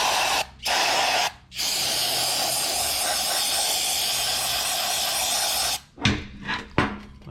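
Aerosol cleaner spraying into the dusty, cobweb-filled carburetor of a 1963 Chevrolet Impala, a close steady hiss broken by two short pauses, then a few short bursts and faint knocks near the end.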